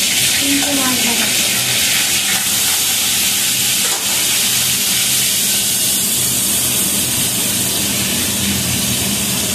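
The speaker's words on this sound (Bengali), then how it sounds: "কিন্তু মাছ ভাজা" Fish frying in a pan gives a loud, constant hiss and sizzle close up, with a faint voice briefly under it near the start.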